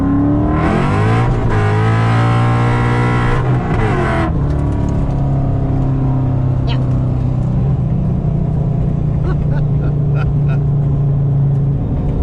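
A car engine revs hard and accelerates in cold air, a loud rising drone with climbing harmonics that drops off after a few seconds into a steady lower rumble while the car keeps moving.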